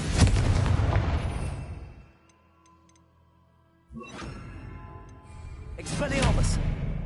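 A Confringo fire-blast spell bursts in Hogwarts Legacy, and a loud explosive blast opens with a decaying rumble. After a quiet gap a second surge of noise builds and crests, with game sounds between the blasts.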